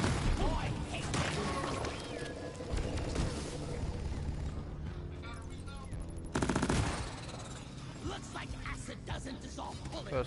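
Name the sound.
gunfire from a video game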